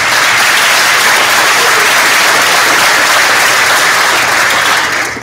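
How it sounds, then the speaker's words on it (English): Loud, dense applause from a high school spring band concert audience, sustained and even throughout before trailing off slightly at the end, with no voices over it. "So these they all deserve a round of applause for their efforts."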